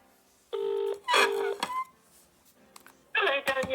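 Telephone keypad tones are dialed before a call: a few steady electronic beeps of differing pitch, each lasting about half a second, with a pause before another short burst of tones.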